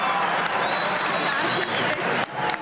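Auditorium audience laughing and clapping together in a dense, lively crowd wash, with a whistle-like tone rising through the middle, fairly loud and continuous for under three seconds.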